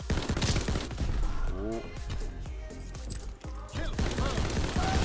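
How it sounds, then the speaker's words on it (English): Rapid hip-fired gunfire from a weapon in Call of Duty: WWII, dense bursts of shots crackling close and loud amid battle noise, with a brief exclaimed voice partway through. "This gun is not good at hip firing."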